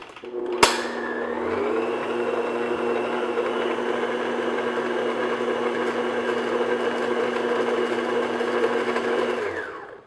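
An electric mixer blends flour into blackberry cream cheese coffee cake batter, starting with a click and then whirring at a steady, close, even pitch for about nine seconds before stopping, with no talking.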